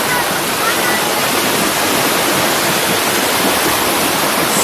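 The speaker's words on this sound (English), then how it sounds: "There's some little waterfalls." Small waterfalls near a cave in a forest give a loud, dense, unbroken rush of falling water close by, filling the whole stretch.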